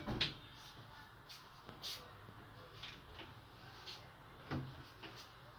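Kitchen cabinet doors with hydraulic hinges and aluminium handles being opened and closed repeatedly, a series of soft close-up knocks and thuds spaced irregularly, fairly quiet.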